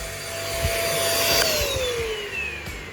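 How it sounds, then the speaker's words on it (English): Vacuum cleaner sucking debris out of a Bacana charcoal grill, a steady loud whine whose pitch slides downward partway through, with light knocks and scrapes of the nozzle against the grill underneath. "Audio is going to be bad because of the vacuum"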